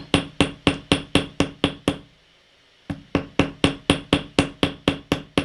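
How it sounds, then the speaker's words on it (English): Sharp metallic taps of a chasing hammer's peened edge on a wire rivet in jewelry making strike in a steady, quick rhythm, pause for about a second, then resume at the same even pace, close and loud. "I'm going to use the peened edge and I'm going to come in and slightly start to tap"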